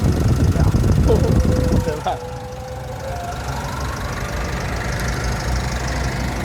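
The engine of a 2017 Isuzu D-Max single-cab pickup with a six-speed gearbox runs at idle. A louder, rougher burst comes first, then it settles into a steady, even idle with a faint whine over it. No one talks.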